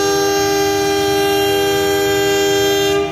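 The Malioboro Express train leaves Yogyakarta station with a loud, steady, sustained horn blast holding the same tones for about three seconds, close by and with no talk over it.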